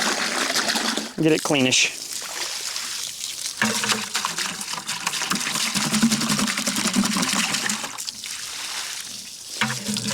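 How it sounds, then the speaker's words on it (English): Water splashes and trickles while a 5-gallon bucket is rinsed out, a steady running wash lasting most of the stretch, with a person talking briefly over it. "The first thing I'm going to do is rinse out my 5-gallon bucket here."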